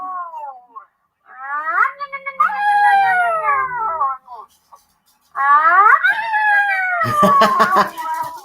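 Dogs outside howl in long, wavering, rising and falling cries, two drawn-out bouts separated by a short gap, ending with rougher, noisy barking-like bursts.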